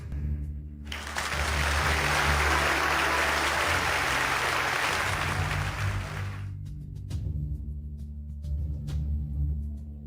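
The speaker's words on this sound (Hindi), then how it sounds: "अब हम तालियों के साथ आमंत्रित करते हैं निफिंग इन्वेस्टमेंट के अध्यक्ष" An audience breaks into loud, dense applause to welcome the chairman of an investment firm on stage, sustained for several seconds and then cut off abruptly, followed by quiet room noise.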